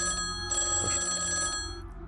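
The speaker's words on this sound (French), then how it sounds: "Téléphone qui sonne." A telephone rings with a steady electronic trill, two sustained bursts separated by a short gap, loud and close over a low room hum.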